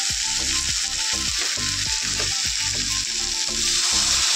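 Masala sizzles loudly in a hot pan just after a little water is added, a dense bubbling hiss with rapid crackling pops throughout.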